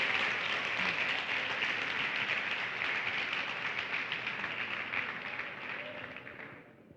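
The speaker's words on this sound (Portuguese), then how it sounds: "adore a Ele com uma linda salva de palmas" Loud applause from a church congregation at a women's gathering rolls on for several seconds, then gradually thins and fades toward the end.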